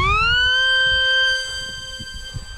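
Micro FPV flying wing motor throttling up: a loud, tonal electric whine that rises sharply in pitch, holds steady, then drops in level as the craft moves off, with rushing wind noise underneath.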